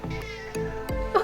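Kitten meowing indoors, a few short close mews in quick succession.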